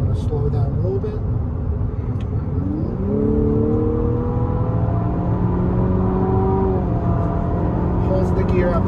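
A 2022 Infiniti QX50 accelerates from inside the cabin, engine note climbing through rising revs with a whirring drone over road rumble and a brief talking voice.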